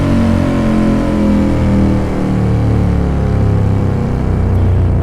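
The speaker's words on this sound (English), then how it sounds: "just hear it kind of roaring away, slowly going down through the revs, it sounds so bloody good" A Ducati 916 motorcycle engine roars continuously at high volume, its revs sinking slowly and steadily as the bike runs down through the range, a thick rumbling drone with no voices over it.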